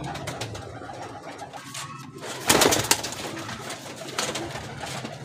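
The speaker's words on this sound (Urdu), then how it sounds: "ماشاء اللہ کے کبوتر ہیں جتنے بھی آپ کو دکھائے جا رہے ہیں" Pigeons coo close by in a loft, with low burbling calls and a brief louder burst of fluttering or rustling in the middle, with no talk over them.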